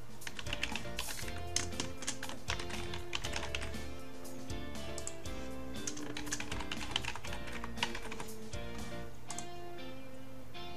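Login details typed on a computer keyboard: a steady stream of soft key clicks runs throughout, close and moderately quiet, alone without speech.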